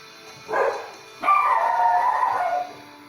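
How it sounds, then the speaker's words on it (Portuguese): Dogs bark and howl nearby, one short yelp followed by a longer drawn-out howling bark, close and fairly loud with no speech over it. "Não repara o latido das cachorras"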